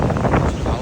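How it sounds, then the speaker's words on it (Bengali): Wind blowing across a lagoon beach, a brief, steady broadband rush of air buffeting close to the microphone, with no clear pauses. "হাওয়া আছে আজকে"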